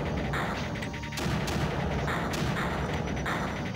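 Mortars firing in the video game Creeper World, a dense stream of booming shots and crashes layered over a continuous rumble of game effects, loud and sustained with periodic heavier bursts.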